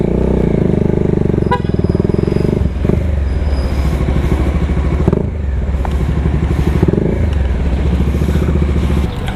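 A Bajaj Dominar 400 UG2 motorcycle on the move, its engine droning loud and close with rhythmic rises and falls as it accelerates, plus occasional clatter and wind buffeting.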